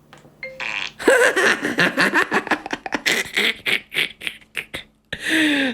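Fart sound effect set off by pressing a Flic smart button, a burst of bursty, raspy, burp-like tones running for several seconds with short gaps, loud and close with no voice over it.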